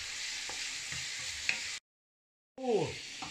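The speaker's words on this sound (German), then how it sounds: "die werden wir dann jetzt kurz von beiden Seiten eine Minute anbraten" Scampi searing in a hot pan with garlic give off a steady broadband sizzle, briefly cut by a short silence, then resuming louder with a few clinks of utensils against the pan.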